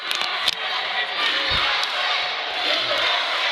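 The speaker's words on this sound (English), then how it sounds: "Crowd trying to get behind the Patriot here." A wrestling crowd at a PPW Excalibur show cheers and roars for the Patriot in a match against Brandon Scott, a loud continuous din with a few sharp thuds and slaps near the start.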